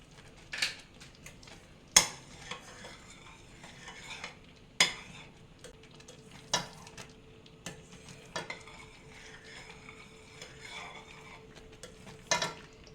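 A spoon stirring milk rava sweet in a pan over low heat, irregular scraping strokes with sharp clinks against the metal and a soft sizzle beneath, close and moderately quiet.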